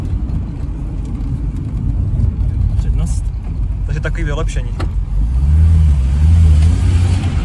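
1984 Lada Nova car with a new carburetor, its engine running and driving with a steady low rumble that swells into a louder rising rev near the end, while people talk over it.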